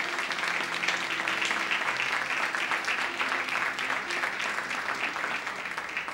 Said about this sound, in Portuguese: Você pode aplaudir ao Senhor, por favor, nessa noite?